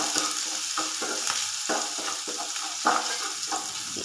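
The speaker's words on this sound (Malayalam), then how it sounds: "ഇതിലേക്ക് ചതച്ച് വെച്ചിരിക്കുന്ന ഇഞ്ചിയും വെളുത്തുള്ളിയും ചേർത്ത് മൂപ്പിച്ചെടുക്കാം" Crushed ginger and garlic fry in hot oil with a lively, crackling sizzle, while repeated scraping strokes of a spoon stirring the pan come through in a loose rhythm, close up and without speech.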